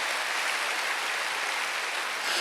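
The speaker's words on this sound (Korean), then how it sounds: "믿는 사람만 박수 한번 쳐봐요" A church congregation at a Korean Wednesday worship service claps together, a steady, even wash of applause with no pauses.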